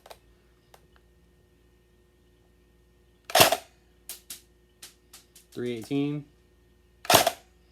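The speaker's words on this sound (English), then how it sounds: "I'm going to go ahead and pop out some single shots if I can, and try to get an FPS on it" An airsoft AUG rifle fires two sharp single shots through a chronograph, a few seconds apart, loud and close. Several clicks and a short stretch of speech come between them.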